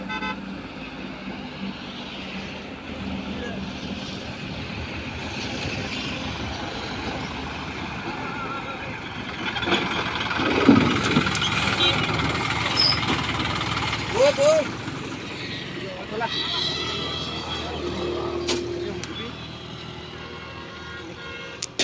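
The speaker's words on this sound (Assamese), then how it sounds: "এইখন আমাৰ ট্ৰেক্টৰ" A tractor hauling cable for electrical line work idles at a steady low rumble by a roadside after a bridge crossing, with traffic noise, a brief horn toot and voices talking over it.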